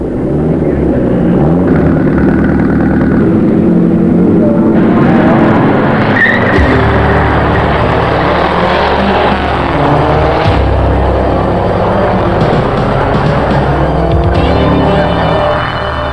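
Saab turbo race cars roar away at a race start in a circuit championship, a loud, dense and continuous engine din with rising revs and gear changes throughout.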